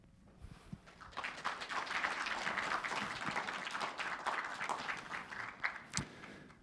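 A round of applause from members present at an association's inaugural meeting, dense clapping swelling and holding steady for several seconds with a few sharper claps standing out.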